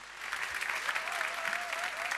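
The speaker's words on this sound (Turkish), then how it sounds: "Alkışlar durmuyor." Studio audience applause on a Turkish television talk show, a steady dense wash of clapping that holds at an even level, with a faint sustained tone running beneath it.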